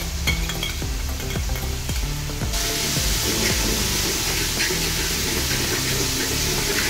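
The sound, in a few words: green chili paste sautéing in oil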